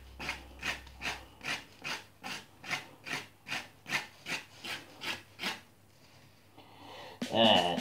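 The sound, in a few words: spoon scraping gooey flesh out of pumpkin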